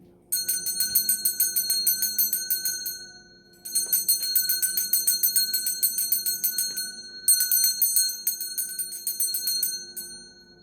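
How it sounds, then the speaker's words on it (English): A small handheld bell is rung rapidly and continuously in three long bouts with brief pauses, bright sustained ringing tones close to the listener, no talking. "I'm going to be ringing a bell."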